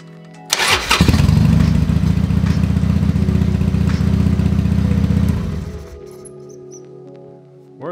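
A Harley Sportster motorcycle engine cranks and catches, running loud and close with a steady throbbing idle for several seconds before being cut and dying away into a faint hum.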